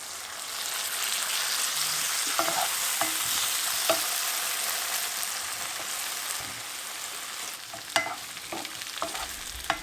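Tomatoes sauté in a pan, giving a steady, close sizzle with occasional stirring clicks and scrapes, and no voices.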